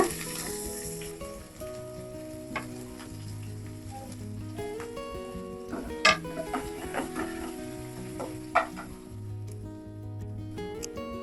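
Crushed garlic and onion sizzle steadily as they sauté in a hot pan, with occasional sharp stirring clicks over a continuous frying hiss and a tonal background bed.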